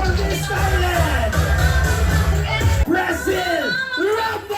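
A room full of children at a birthday party cheers and shouts with clapping, a loud, lively crowd din mixed with whoops and excited voices that eases slightly near the end.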